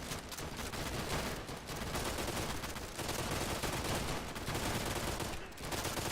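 Sustained rapid gunfire from a weapon in the video game Easy Red 2, dense continuous bursts with only brief pauses, loud and alone without talk.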